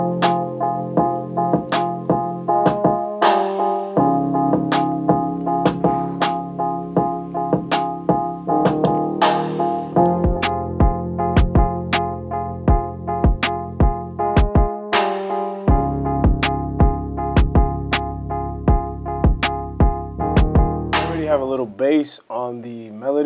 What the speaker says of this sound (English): Some fire drums on something like this.